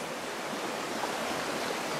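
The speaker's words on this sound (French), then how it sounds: "Et là, il y a des petites cascades." Small waterfalls on a river, a steady close rush of falling water filling the whole moment with broadband noise.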